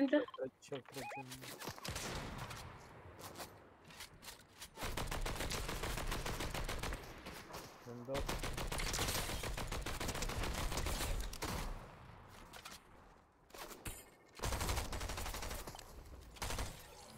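In Fortnite, rapid bursts of gunfire in long, dense volleys crackle loudly, broken by short pauses, with occasional talking underneath.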